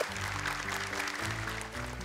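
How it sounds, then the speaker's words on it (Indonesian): Applause breaks out for Naufal, a young Quran memorizer on the Hafiz Indonesia 2025 television competition, a steady wash of clapping sustained over a low musical hum throughout. "tepuk tangan untuk Naufal"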